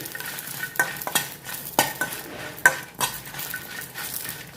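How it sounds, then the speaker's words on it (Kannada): Garlic frying in coconut oil for a Kerala-style chickpea curry, a soft continuous sizzle broken by repeated scraping strokes of a utensil stirring against the pan, close and moderately loud. "ಸ್ವಲ್ಪ ತೆಂಗಿನೆಣ್ಣೆ ಹಾಕಿ ಇದನ್ನು ಹುರಿ"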